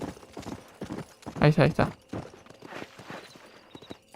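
Horse hooves clip-clop in the Western video game Red Dead Redemption, a quick cluster of close thuds in the middle, with someone talking briefly and other soft steps around it.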